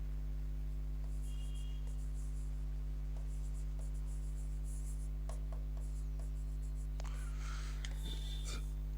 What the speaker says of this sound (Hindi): मैं इसको लिख देता हूँ।